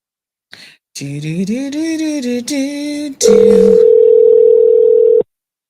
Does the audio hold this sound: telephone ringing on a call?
yes